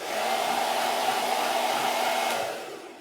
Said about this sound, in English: I'm going to have to put my hairdryer on,